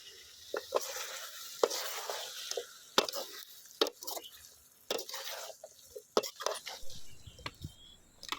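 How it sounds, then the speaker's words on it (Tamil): A spoon stirs chopped coriander through Pallipalayam chicken curry in a pan, soft scraping strokes and faint sizzling coming in intermittent bursts, close and quiet. "ஃபைனலாக நம்ம கட் பண்ணி வச்சுருக்க கொத்தமல்லியில் தூவி நல்லா மிக்ஸ் பண்ணி விடுங்க."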